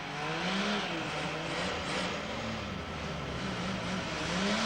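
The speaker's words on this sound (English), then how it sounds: "this once familiar sound of a Holden 6 warming up" A Holden six-cylinder car engine idles and warms up with a steady, rough low drone that holds evenly throughout, close by.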